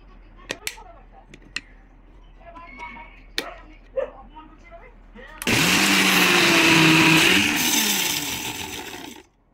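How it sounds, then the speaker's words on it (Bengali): A kitchen blender whirs loud and continuous while blending pasta sauce, starting abruptly after a stretch of scattered clicks and handling noises and running to the end before slowing slightly. "এই তো এখন আমরা ব্লেন্ডার করে নিব"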